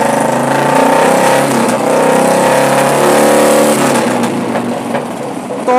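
A Royal Enfield motorcycle engine, one with a battery-charging fault, revs hard and holds a high, buzzing pitch, loud and close, before easing off slightly near the end.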